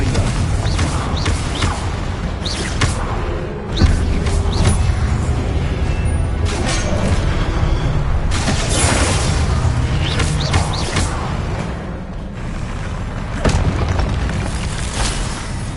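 Confringo fire-blast spells booming and bursting in a Hogwarts Legacy duel, with repeated loud impacts and crackling blasts layered over dense battle noise for the whole stretch.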